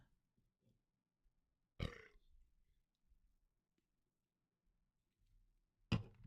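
Two loud, deep burps, the first a long rumbling belch and the second a short one near the end, with quiet gaps around them.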